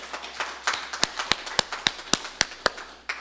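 Sparse claps from a church audience, about a dozen sharp, separate hits at a steady beat rather than dense applause. Fairly close and alone, with no talk.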